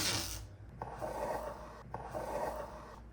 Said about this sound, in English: I'm going to use a little bit of masking tape to tape off just that trim.